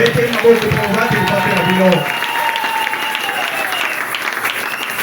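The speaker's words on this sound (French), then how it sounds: "Applaudissez pour votre pasteur." A church congregation applauds for its pastor, many hands clapping loudly for about two seconds as voices cheer and sing over them, then the clapping thins into a softer patter under lingering voices.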